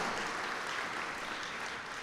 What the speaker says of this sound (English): may I propose another huge round of applause for our line dance artist and our singer